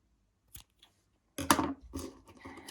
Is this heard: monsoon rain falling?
no